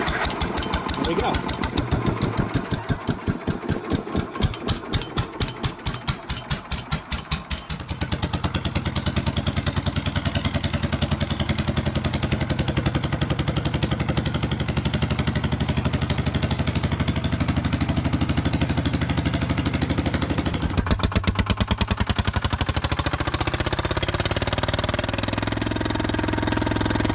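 A Detroit two-cycle twin-cylinder diesel engine, 53 or 71 series, runs steadily and loudly close by, with a fast chugging pulse early on and a rising roar near the end.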